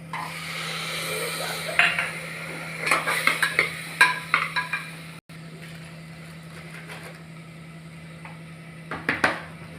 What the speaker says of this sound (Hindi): हाँ गरम, वाटर डाल के मसाले में मिक्स करेंगे